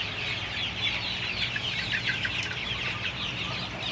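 Thirty-five-day-old Sonali super hybrid chicks cluck and chirp continuously in a hot poultry house, a dense, steady flock chatter heard at close range.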